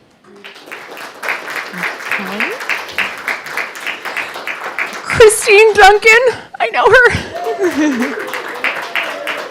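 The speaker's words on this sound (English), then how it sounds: "I love those moments where everybody in the room claps because everybody knows them" Audience applause fills a city council meeting room as names are read and people are welcomed forward, clapping steady and moderately loud beneath spoken voices, with a brief louder burst of talk and clapping midway.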